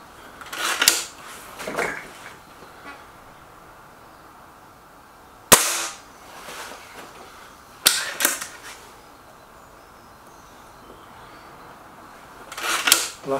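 Several sharp, isolated shots from a Gamo Whisper Sting air rifle at a shooting bench, each a crisp snap with a short tail, spaced irregularly several seconds apart with quiet room tone between.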